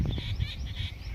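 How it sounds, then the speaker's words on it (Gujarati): Morning birds chirp steadily in the background at a Hanuman ashram in Lakhanka, over a low rumbling, wind-like hum, with no talking. "સવાર સવારમાં પંખીઓનો કલરવ"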